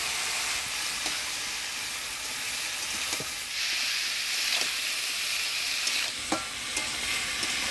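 Chopped vegetables with turmeric, salt and green chilli frying in a pan over nigella seeds and onion, a steady moderate sizzle and hiss with occasional clicks of stirring, no talk.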